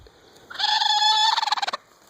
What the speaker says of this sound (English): this is Alice, the Broody Polish hen